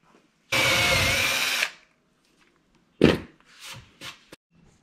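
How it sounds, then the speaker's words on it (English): A DeWalt power drill bores a hole in wood: one loud whirring burst of about a second, then a pause and several shorter spurts as the bit bites and eases off, close and clear. "I'm going to drill a hole for this guy here."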